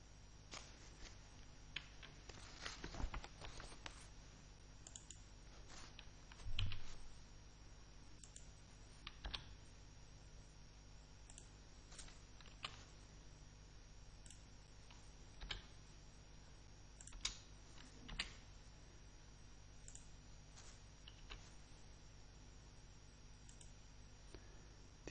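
Typing on a computer keyboard while entering connection data for a circuit board, heard as sparse, quiet key clicks scattered irregularly across a faint steady background, with one slightly louder burst near the middle.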